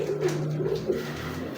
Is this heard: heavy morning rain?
no